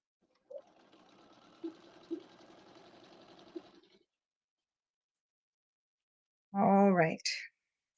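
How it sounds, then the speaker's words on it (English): A sewing machine runs an overcast stitch along a raw fabric edge for a pair of Ginger jeans, a steady close whir of about three and a half seconds with a few light clunks, then a pause and a short spoken voice. "I'm doing the overcast stitch on mine"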